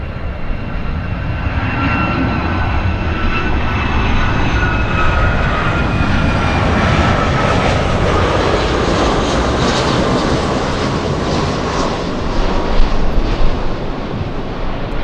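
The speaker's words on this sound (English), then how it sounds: "Great sound, screaming Rolls-Royce engines." A United Boeing 757 with Rolls-Royce engines roars past at LAX, a loud, sustained screaming jet noise with rising whine tones that swells steadily and stays strong throughout, with no talking over it.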